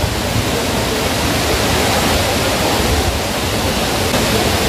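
Aagaya Gangai waterfall in the Kolli Hills, heard up close as a loud, dense, unbroken roar of falling water and spray, with no voices over it.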